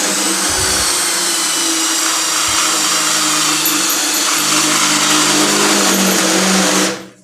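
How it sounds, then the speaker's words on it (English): A loud, steady, cheap electric drill whines continuously at high speed, boring through steel without pause for several seconds before cutting off abruptly at the end. "I'm taking frequent breaks since I have a really cheap drill."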